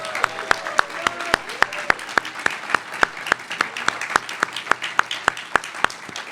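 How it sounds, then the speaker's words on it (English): Audience applauds competitors at a moot court competition final, with sharp distinct hand claps in a steady, fairly even rhythm, not especially loud, over a faint murmur of voices. "Please join me in a round of applause again for the competitors"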